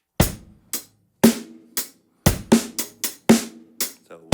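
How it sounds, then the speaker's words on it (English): A drum kit plays a sparse groove of sharp, loud hits with quick decays, and a cluster of rapid strokes from a right-hand half paradiddle fills the third beat of each bar. "So we're going to work with the right hand paradiddle first."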